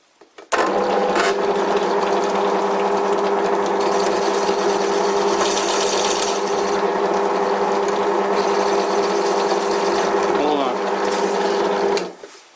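Small lathe fitted with a Bison 3-jaw chuck spinning up and running at a steady whine with a constant hum for about eleven seconds, close and loud, before winding down.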